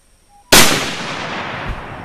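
One sharp, loud rifle shot fired with a 150 grain Sierra soft point reload cracks suddenly and then rolls off in a long fading echo outdoors.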